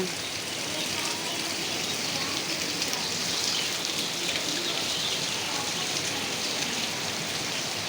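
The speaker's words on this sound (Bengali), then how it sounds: "কিভাবে বৃষ্টি পড়ছে" Heavy afternoon rain in Dhaka pours steadily, a dense continuous hiss of drops drumming on surfaces and tree leaves with no pauses.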